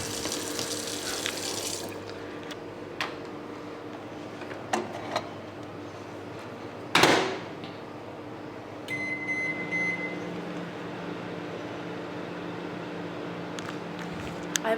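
A kitchen tap runs steadily for a small amount of water to cook raw broccoli, a continuous hissing stream with a sharp clatter midway and a few faint electronic beeps near the end.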